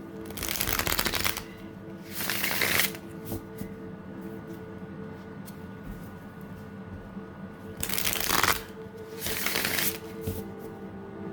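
A Winnie-the-Pooh tarot deck being riffled and shuffled by hand, in several brisk papery bursts separated by quieter stretches, close and clear with no talking.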